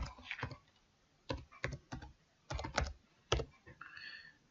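Someone types a password on a computer keyboard, quick irregular bursts of close key clicks separated by short pauses in a quiet room.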